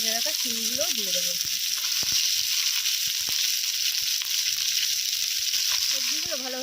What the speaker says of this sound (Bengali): এরপর কেটে রাখা শিমগুলোও দিয়ে দেবো।